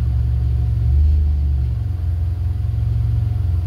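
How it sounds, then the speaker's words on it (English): Mitsubishi Evo X engine during a boost teach-in, a loud steady low rumble with a brief swell in pitch and level early on, holding high revs close to the microphone with no talking. "This one is the boost teach-in, so this is going to be really high revving,"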